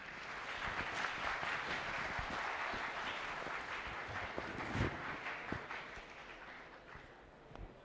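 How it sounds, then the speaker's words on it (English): An audience at an IIT Delhi Open House gives a round of applause to welcome a professor. Steady, fairly faint clapping from many hands carries on for several seconds with a few louder claps standing out. "Please join me in welcoming Professor Kanseri with a big round of applause."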